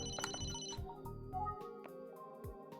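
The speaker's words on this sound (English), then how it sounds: "Oh, I'm getting a phone call?" A phone ringtone from the video game Emio - The Smiling Man chimes in a short melodic burst, fairly quiet and alone, with no talking over it.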